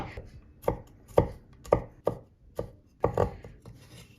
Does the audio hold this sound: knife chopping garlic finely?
yes